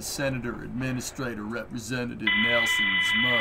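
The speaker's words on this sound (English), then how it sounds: "That's my alarm to eat my pudding." An electronic alarm starts beeping partway through as a steady, high buzzing tone while a person keeps talking over it.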